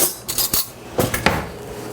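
Metal spoons clink and rattle in a kitchen as a clean one is pulled out, several sharp, close jingling hits in quick succession with a short pause between clusters.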